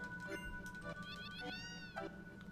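A cat meows several times in short, rising and falling cries, close and fairly clear over a steady low background hum.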